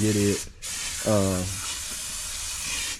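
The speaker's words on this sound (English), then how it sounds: "I just sprayed that off, Coop." Steady spray hiss from cleaning off an engine cylinder head during a Cat 259D engine rebuild, running loud and continuous through the whole moment, with brief voiced sounds rising over it near the start and again in the middle.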